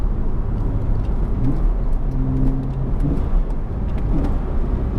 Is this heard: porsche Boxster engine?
yes